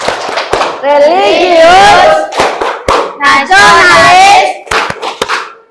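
A school class at SMPN Binuang claps the rhythmic Tepuk PPK chant, with sharp, loud claps in a set pattern between children's voices shouting the chant words in unison.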